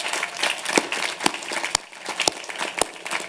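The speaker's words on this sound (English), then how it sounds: "Let's give them a big round of applause" Audience applause fills a college commencement ceremony for the class of 2023, honoring those who served the nation, a steady broad wash of many hands with a few sharp louder claps standing out.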